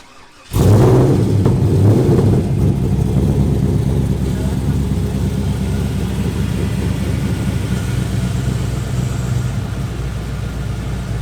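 A hot rod car engine on a road trip fires up and settles into a loud, steady, rumbling idle that runs on for several seconds close by.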